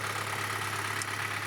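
A Hyundai LF Sonata engine idling at cold start after more than 100,000 km, a steady low drone with a constant hum and faint ticking, close and even throughout the short stretch.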